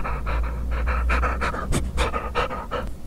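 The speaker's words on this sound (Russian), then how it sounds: "С нами так само собака." A dog pants steadily and rhythmically close by, quick repeated huffs of breath continuing throughout over a low background hum indoors.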